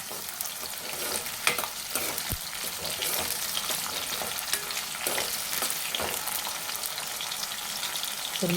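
Onions with salt fry in a pan with a dense, continuous sizzle, while a spoon scrapes and stirs through them in irregular strokes, close and fairly loud.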